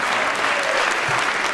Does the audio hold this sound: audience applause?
yes